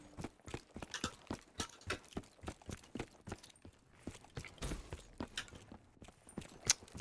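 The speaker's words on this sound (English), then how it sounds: "You hear those footsteps?" Footsteps in the Black Ops 3 video game: a quick run of sharp, clipped steps, about two per second, repeating steadily and fairly close, with no talk over them.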